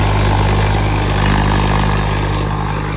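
A Swaraj tractor engine runs at roughly 1700–1800 RPM in a field being worked with a rotavator, making a loud, steady, close-up diesel drone with no break.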